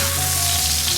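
Scallion and ginger slices sizzle in hot oil, a steady close crackle and hiss filling the short moment with no voices.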